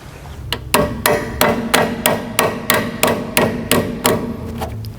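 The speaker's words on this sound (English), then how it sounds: "using a hammer, I'm going to line it up and softly tap that in" A hammer taps a rear suspension part into place on a Volkswagen/Audi MQB chassis with about a dozen evenly spaced, sharp metallic knocks, close and moderately loud.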